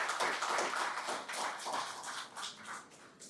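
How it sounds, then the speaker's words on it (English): An audience at an office opening ceremony claps for a few seconds, a soft, scattered patter of hands fading toward the end. "The support throughout the process from these individuals was invaluable and deserved a bigger rousing applause."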